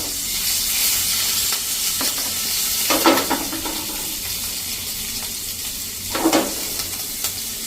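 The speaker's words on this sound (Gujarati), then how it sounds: "ગ્રીન મરચાંને મેં સમારી લીધા છે અને લીમડાના પત્તા મૂકી અને એને આપણે એકદમ સરસ ક્રેકલ કરી લેશું" Chopped green chillies and curry leaves crackle in hot oil for a Gujarati khaman tempering, a continuous sizzle broken by a few sharper bursts of spattering and stirring, with no voices.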